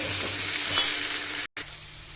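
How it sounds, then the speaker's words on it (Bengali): Pumpkin pieces sizzle steadily in hot oil in a home kitchen while being stirred, a continuous close frying hiss with soft scraping, cut by a brief silence near the end. "মিষ্টি কুমড়োটা এখন দেখো ভালো করে নাড়িয়ে চাড়িয়ে নিচ্ছি তেলের ওপরে"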